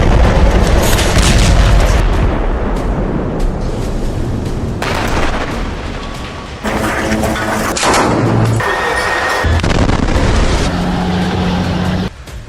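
Israeli army bombing in Gaza produces a loud, continuous rumbling roar of booming explosions that fills the whole stretch without letting up, with no voices.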